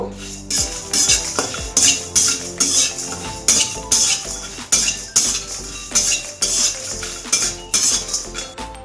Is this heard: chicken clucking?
no